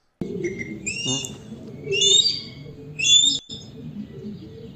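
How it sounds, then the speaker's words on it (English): A recorded hawk call played back through a small speaker: a few shrill, high whistled cries in short bursts, with low background noise and murmuring underneath. "Hawk calls sound a lot alike."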